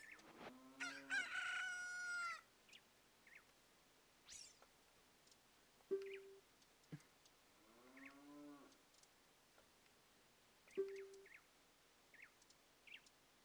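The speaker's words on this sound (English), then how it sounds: "Now I'm gonna show her my chicken." A cucco in The Legend of Zelda: Ocarina of Time crows loudly in a drawn-out rooster call, followed by a few shorter clucks and another crow, with game jingles in between and no talking.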